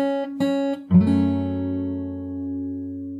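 Fingerstyle acoustic guitar plays an opening: a few picked notes, then a fuller plucked chord that rings out and decays, with no talking.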